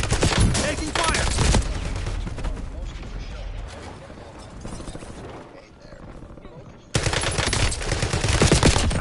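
Sustained automatic gunfire in the Call of Duty Warzone video game, loud bursts rattling throughout, easing to a quieter stretch mid-clip before a heavy barrage returns, with voices talking over the shooting.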